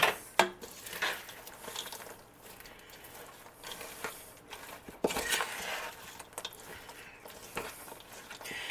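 A spoon stirring keto fruitcake batter with walnuts in a bowl, producing irregular scraping clinks and soft thick patters at close range, fairly loud, with no talk.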